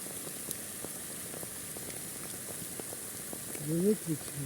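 Steady hiss of warm spring rain falling outdoors in a garden, soft and even, with a few scattered droplet ticks and a brief murmur near the end.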